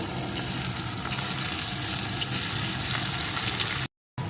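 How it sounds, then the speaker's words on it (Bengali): Chopped green chilies fry with tomato in hot oil, a steady close sizzle running throughout, broken by a brief silent gap near the end before it resumes. "লঙ্কা কুচিটাও একটু ভেজে নেব"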